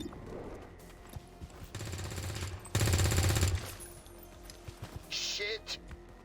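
Bursts of automatic gunfire in XCOM 2 during a flank shot, a sustained rattling volley followed by a louder, denser burst, then scattered shots and a short high-pitched effect, all under occasional talk.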